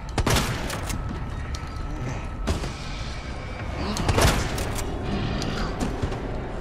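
Shotgun blasts in the video game Resident Evil 2, several loud booming shots over a dense, continuous game soundscape, with sharper cracks near the start, midway and around the fourth second.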